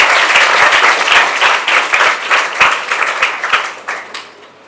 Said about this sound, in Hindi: एक बार ताली बजाओ अपने लिए सारे।